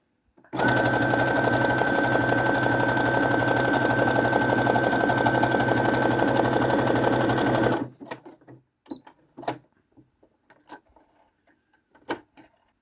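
A sewing machine runs a continuous narrow zigzag stitch on stretch fabric at 3.5 length, a loud steady whirring hum for about seven seconds, then stops abruptly, followed by scattered small clicks and handling noises.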